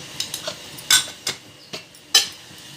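Stirring okra fry with spices in a pan: a spoon scrapes and clinks against the pan in about seven short, separate strokes, close and crisp over a faint background.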